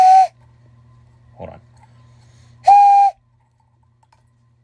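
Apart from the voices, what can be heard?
3D-printed whistle being blown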